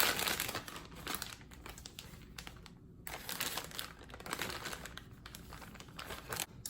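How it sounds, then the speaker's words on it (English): A Ziploc plastic bag crinkling and rustling up close as spam slices are slipped inside, continuous irregular crackles rising and falling over several seconds with a brief pause midway. "Now I want to put my spam into a Ziploc bag."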